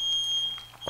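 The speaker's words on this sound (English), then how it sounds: "at least I think that's the fire alarm." Smoke alarm in a house sounding under a steady high electronic tone, with a few faint short chirps and a louder burst near the end; no talking.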